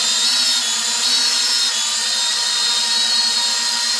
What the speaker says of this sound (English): So now, as we fly the drone